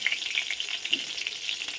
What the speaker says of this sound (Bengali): আর কিছু পনির ছিল সেটাকেও আমি তেলের মধ্যে দিয়ে দিলাম। এটা আমি ভেজে নিচ্ছি।